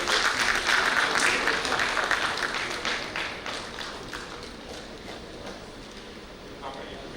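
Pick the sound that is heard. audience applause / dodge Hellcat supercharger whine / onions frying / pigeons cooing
audience applause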